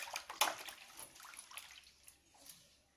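Soft splashing and trickling bathwater as a baby bathes in a tub, faint and close, with small irregular splashes and drips and a brief louder splash near the start.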